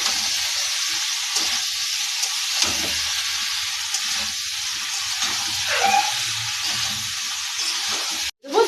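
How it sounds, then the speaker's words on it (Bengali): Ghugni sizzles steadily in a hot pan while it is stirred, with soft scraping and hissing close up, ending in a brief clatter. "এই একটু নাড়িয়ে নেব কষিয়ে নিলাম"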